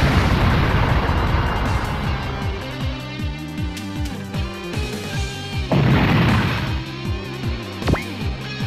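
Explosions in the mecha video game Super Robot Taisen BX: a loud, dense burst of blasts and crashing debris with layered game music, continuing throughout with a fresh booming surge partway through and sharp impacts near the end.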